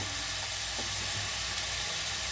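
Ground ginger sizzling in hot oil in a kadai, a steady close hiss of frying that continues evenly throughout.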